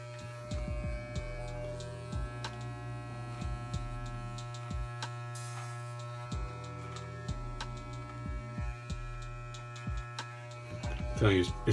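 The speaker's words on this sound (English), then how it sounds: "it's pretty tricky trimming a big beard" An electric trimmer works through a big beard, giving a steady close electric hum and buzz with repeated brief clicks and strokes, louder near the end.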